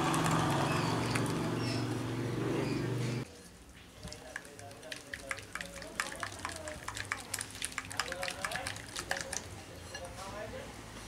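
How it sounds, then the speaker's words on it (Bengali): Pumpkin fritter batter being beaten by hand, close wet squelching and slapping in an irregular quick rhythm, following a few seconds of a louder steady tonal sound. "এখন এটাকে ভালো করে হাত দিয়ে আমি ফেটিয়ে নিচ্ছি।"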